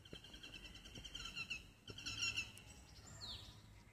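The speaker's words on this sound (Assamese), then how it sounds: "ইয়াত খালি চৰাইৰ মাতেই শুনা পায়" Birds call and chirp faintly on a tree-filled university campus at IIT Guwahati near a guest house, with repeated high twittering phrases over quiet background.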